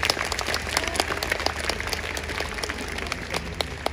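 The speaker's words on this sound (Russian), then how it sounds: "В первую очередь, аплодисменты всем вам, тем, кто пришел сегодня сюда." An outdoor concert audience at Tsaritsyno in Moscow applauds, many individual hand claps distinctly audible in a dense, steady patter at moderate distance, with no speech over it.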